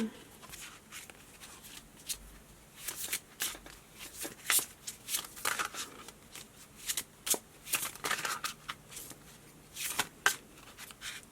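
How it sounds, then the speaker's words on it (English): Tarot cards are shuffled repeatedly in soft, riffling bursts, close and fairly quiet, with brief pauses between each pass. "Let's give this a good shuffle."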